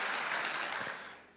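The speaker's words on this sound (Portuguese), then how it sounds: "Pedir uma forte salva de palmas." A crowd at a church men's congress gives a loud round of applause, a dense hiss of clapping that begins to fade toward the end.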